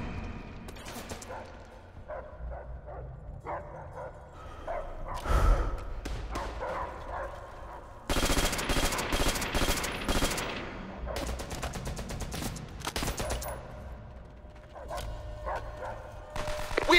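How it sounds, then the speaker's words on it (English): Attack dogs in the game Call of Duty: World at War bark in repeated sharp bursts, mixed into dense machine-gun and rifle fire that crackles in loud volleys, with shouted voices through the battle. "They have released the dogs!"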